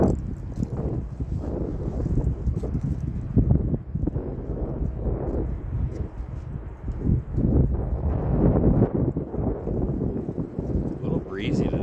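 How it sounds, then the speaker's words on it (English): Outdoor breeze at sunrise, steady low wind rumble buffeting the microphone with rustling and scuffing footsteps, loud and continuous throughout. "A little breezy today, too."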